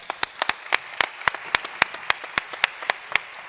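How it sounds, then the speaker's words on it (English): Audience at a conference claps for award winners, but only a sparse handful of sharp, evenly spaced claps rings out at moderate volume rather than a full crowd. "Please, a round of applause."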